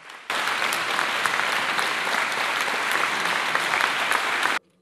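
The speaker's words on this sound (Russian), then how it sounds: "Бывшего политузника встречают аплодисментами" A crowd claps steadily for several seconds, loud and dense, starting abruptly and stopping suddenly, with no voices over it.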